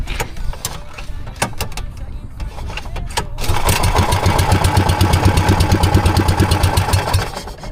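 A small river boat's motor sputters with irregular knocks, then settles into a loud, steady rhythmic chugging close by.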